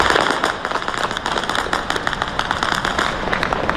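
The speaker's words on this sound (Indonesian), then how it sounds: "rentetan senjata dan ledakan terdengar di berbagai titik kota Erbil" Over the city of Erbil, Iraq, a dense crackle of rapid gunfire and explosions pops and bursts at night. The reports come in irregular, overlapping volleys from some distance, with no talking.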